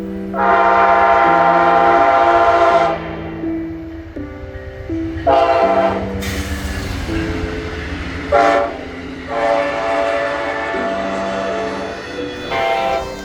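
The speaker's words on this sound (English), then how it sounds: "Amtrak train 283 would come around the corner, being led by Amtrak 145" An Amtrak passenger train led by heritage locomotive 145 passes, its horn blaring in long repeated blasts, loud and close, over the rumble of the locomotive and cars.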